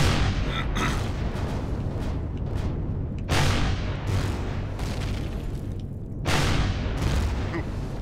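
Explosions boom repeatedly in Empyrion - Galactic Survival. Heavy, rumbling blasts land every second or two, with sharper bursts over a constant loud battle roar.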